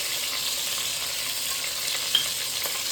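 Onion, tomato, green chilli and ginger garlic paste frying in oil for mushroom biryani, a steady close hiss of sizzling with a faint stirring scrape, no talking.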